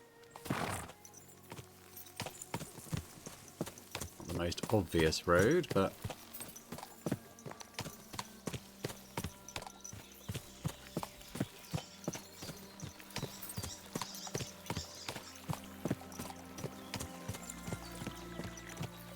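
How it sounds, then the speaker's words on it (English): Steady clip-clop of a horse's hooves on a road in Kingdom Come Deliverance 2, an even walking rhythm running throughout, with a brief whinny early on and someone talking over the hoofbeats. "Watch out with that horse."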